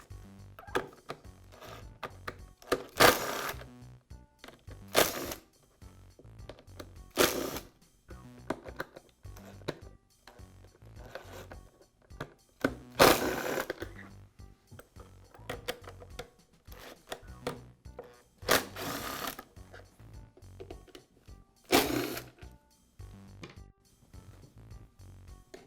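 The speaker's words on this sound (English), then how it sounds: "Now remove the screws that secure the 2 halves of the pump housing." A Bostitch air compressor pump housing is taken apart, with screws removed one by one: sparse, close clicks and clatters of tool and small metal parts at irregular intervals against a quiet background.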